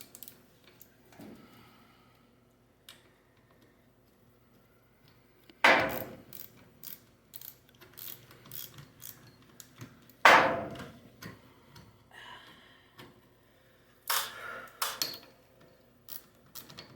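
Metallic ticks and clanks from a wrench working a nut on a garage door spring, coming in irregular bursts with a few loud knocks and quiet gaps between them.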